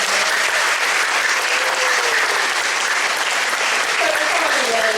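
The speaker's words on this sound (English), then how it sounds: "can we just give all our speakers a massive round of applause?" A school open evening audience gives the speakers a long, loud round of applause, dense, steady clapping that fills the hall from start to finish without letting up.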